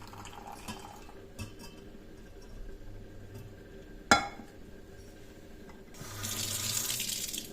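Water runs and splashes as it is poured off cooked lentils in a pot, with a sharp metallic clink and faint utensil knocks before a louder stream of pouring water.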